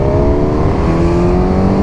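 A 2021 Suzuki GSX-S 1000 motorcycle with a four-cylinder engine revs up close and loud, a dense steady drone with the pitch rising slightly as it accelerates.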